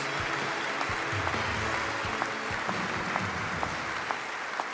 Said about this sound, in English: Let's have one more round of applause for our Crystal and Simoniak winners